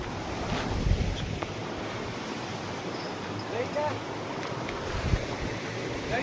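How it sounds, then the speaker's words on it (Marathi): Stream water splashes and rushes as a tractor is washed in a village nullah, giving a steady, broad, wind-like wash of noise with faint voices in the background. "या नाल्यात ट्रॅक्टर धुणे आम्हाला."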